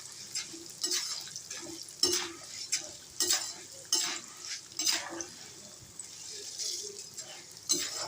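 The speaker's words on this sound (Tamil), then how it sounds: "இந்த எண்ணெயில் பொரித்து எடுக்கிறோம்." Ingredients for idli podi frying in hot oil, with a soft sizzle and repeated scraping stirs of a spoon against the pan, fairly quiet and steady.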